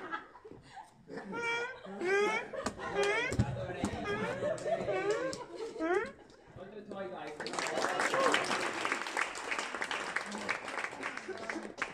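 Backstage at a dance final show, children chatter, giggle and talk excitedly, then a burst of group clapping and cheering swells up in the second half, busy and continuous over the voices.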